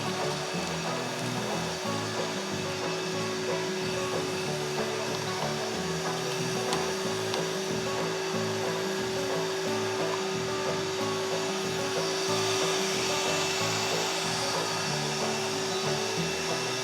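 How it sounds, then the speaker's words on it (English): A shop vac runs steadily while vacuuming out debris during engine repair work, producing a constant loud whooshing roar with a steady tonal hum and no talk. "So I'm going to get the shop vac and clean all this out."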